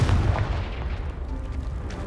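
A Confringo fire spell explodes in Hogwarts Legacy, a loud booming blast at the start that rumbles and fades into a low, decaying roar with scattered debris crackles.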